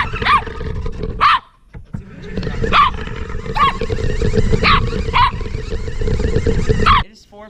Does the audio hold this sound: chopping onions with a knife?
no